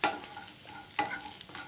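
Deseeded tamarind frying in a pan for tamarind chutney, a brief, fairly quiet sizzle with a few scraping stirs of a spoon.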